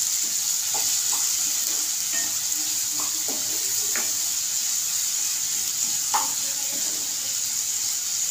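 Onion frying in a pan with garlic while making besan zunka, a steady soft sizzle running throughout with occasional light stirring clicks and scrapes, fairly close and without talk.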